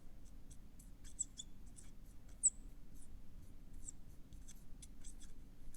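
A marker or pen writes a free body diagram title on a board, producing faint, scattered scratchy strokes in quick clusters over a low steady hum.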